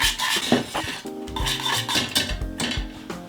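Egg yolks being whisked into béchamel sauce in a pot for pastitsio, with a whisk clinking and scraping against the pot's sides in quick, irregular strokes, close and fairly loud, no voices.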